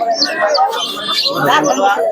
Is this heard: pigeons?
yes